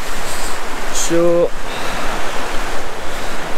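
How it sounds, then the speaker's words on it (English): Steady broadband rush of a small waterfall near a campsite on the Isle of Mull, continuous and moderately loud, with a brief spoken word over it. "wee waterfall"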